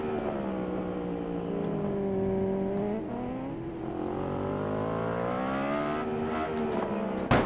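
A superbike in TT Isle of Man: Ride on the Edge 3 races along. Its engine drones loud and steady, the pitch sweeping up and down through shifts and bouncing at the rev limiter, with a sharp knock at the end.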